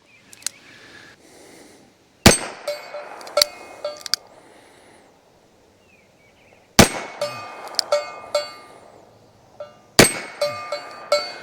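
A Taurus .327 Magnum revolver fires .32 S&W rounds outdoors, three sharp, loud shots spaced a few seconds apart, each followed by clinking and echoing rattle.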